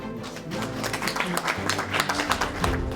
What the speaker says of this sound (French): Vous pouvez vraiment vous applaudir parce que c'est vraiment un superbe travail.